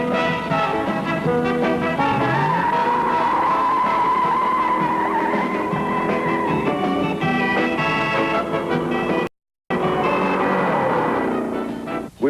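A 1969 Ford Torino Cobra with a 428 engine drives hard on a test track, tires squealing in a sustained wavering whine over a loud engine roar, cut by a brief gap before the skid resumes.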